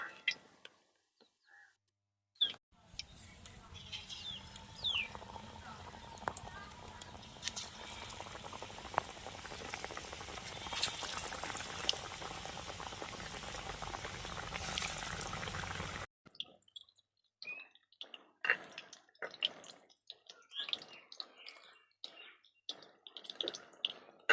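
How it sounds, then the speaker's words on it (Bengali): Potato chops deep-frying in hot oil, giving a dense, steady sizzle and bubbling close by for about thirteen seconds, then cutting off to scattered kitchen clatter and faint voices. "তো এইটা আমার ভাজা হতে থাকুক, মুচমুচ হতে থাকুক"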